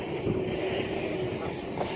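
British Airways Boeing 777 airliner on approach to land, a steady broadband engine roar with a faint whine held at an even level throughout, fairly distant with no talk over it.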